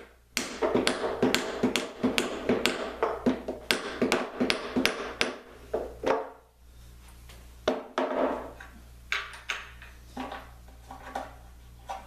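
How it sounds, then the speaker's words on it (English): A hammer taps a bolt through on a DeWalt 735X planer, giving a close series of sharp, fairly even metallic taps, then a short pause and a second, more scattered run of blows. "I'm going to see if I can't tap this bolt through"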